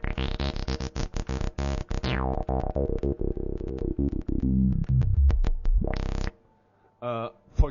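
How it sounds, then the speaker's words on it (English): Softsynth tone through a low-pass filter with emphasized resonance, a buzzy repeating synth pattern whose whistling resonant peak sweeps downward and then rises again, loud and alone, ending with a brief pause and a short burst. "if we take a low pass again, and now emphasize the frequency at which the low pass filtering occurs"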